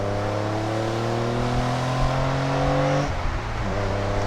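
A 1990 Nissan 300ZX engine revs smoothly and steadily under load, then blips sharply as a double downshift is made, close and loud inside the cabin.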